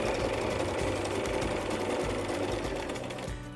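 A sewing machine edge stitches around a fabric crown in a fast, steady, close-up mechanical whir that slows and stops right at the end.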